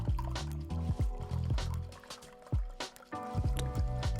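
Water trickles and splashes as it is poured into a container on a kitchen scale, with uneven gurgling bursts and small knocks, close and fairly quiet with no speech.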